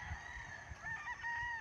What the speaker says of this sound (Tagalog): Mga kulungan po yan ng mga babaeng manok.